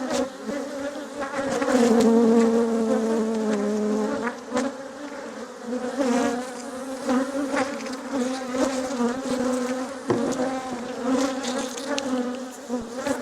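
Permaculture honey bees swarming around an open hive, making a loud, close, continuous buzz with whining drones rising and falling as individual bees pass near.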